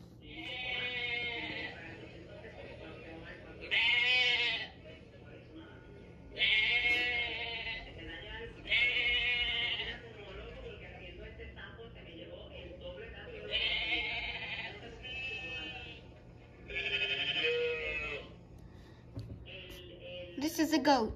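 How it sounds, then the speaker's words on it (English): Sheep bleating in a series of repeated wavering calls, about six distinct bleats spaced a few seconds apart, fairly close and clear over a low steady hum. "This is a sheep. Sheep give us wool."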